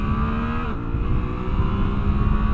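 Suzuki V-Strom 800DE motorcycle accelerating hard on a street, a loud close engine roar rising through a gear change with a brief dip, then pulling strongly again, no voices.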